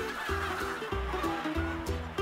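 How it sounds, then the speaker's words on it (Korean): Native Korean hens clucking in a farmyard after a night in the laying house, several close, bursts of throaty clucks overlapping in quick uneven rhythm. "밤새 잘 자고 일어난 토종닭들이 산란장 문을 열자 기다렸다는 듯이 간간히 내리는 가랑비에 식혀진 마당으로 나옵니다"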